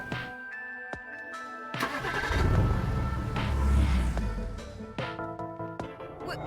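A car engine in a video game, rising to a sustained rumble and rev in the middle of the clip amid game music tones and sharp effect hits.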